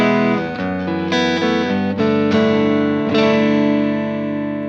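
Electric guitar played through a Tsakalis Mothership tube overdrive preamp on its cleanest gain A setting, a series of ringing clean chords and notes with sustained tails, close and alone.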